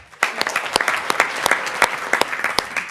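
Dense audience applause fills a Board of Education meeting hall, a steady wash of many hands clapping with sharp individual claps standing out, fairly loud and without talk.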